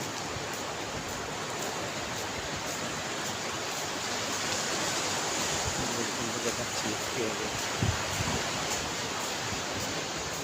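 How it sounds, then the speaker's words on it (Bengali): Sea waves washing onto the beach at Cox's Bazar make a continuous, dense roar of surf with no pause. A faint voice may sit under the noise. "আমি আপনাদেরকে কক্সবাজারের কিছু ঢেউ এবং"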